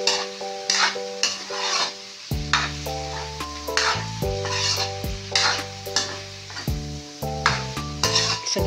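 Pakbet vegetables sizzle and get stirred in a hot pan, a steady fry with scraping spatula strokes, while melodic background music plays throughout.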